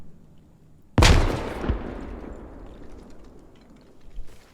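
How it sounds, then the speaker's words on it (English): A grenade blast in the military shooter game Squad, one sudden loud boom with a rumbling, decaying tail and scattered distant gunfire afterward, heard alone without talk. "Another grenade, but it's going to be wasted."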